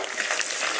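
Deep-frying mushrooms in oil: a dense, bubbling hiss, close and unbroken throughout.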